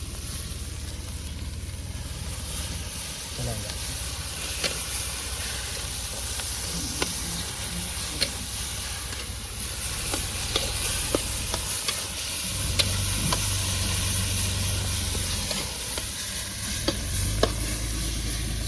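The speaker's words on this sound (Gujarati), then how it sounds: "હવે પછી આપણે એમાં દૂધ વેરી દઈશું અને દૂધને પણ સારી રીતે મિલાવી દઈશું" Grated carrot halwa sizzles and hisses steadily in a pan outdoors as milk is poured in and stirred, with occasional scrapes and clinks of the spoon against the vessel and no talking.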